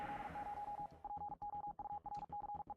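Morse code beeps from the video game Deus Es Machina: one pure tone keyed in quick dots and dashes, coming out of a noisier opening wash and then repeating crisply over a faint low hum.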